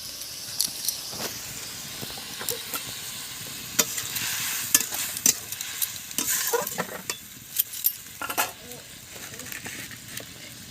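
Potatoes stir-fried in a pan for fish curry sizzle and hiss steadily, with intermittent scraping and clattering stirring strokes over the frying, near and moderately loud, and a voice speaking at times.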